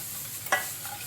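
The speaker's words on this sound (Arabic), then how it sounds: "غادي نحرك كلشي ونوضعو فوق النار حتى يغلي ليا" A spoon stirring half a litre of milk and cream in a pot on the stove for a knafeh cream filling; one brief scrape stands out over a steady background hiss, close and without talk.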